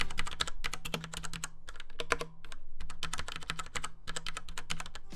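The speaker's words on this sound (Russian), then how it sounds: "Наш вариант содержит кнопки типа MX Black, без щелчка и отдачи" Close, rapid typing on a Tesoro Colada gaming keyboard with linear MX Black switches, dense bursts of keystrokes with brief gaps between runs, crisp and fairly loud, no talk.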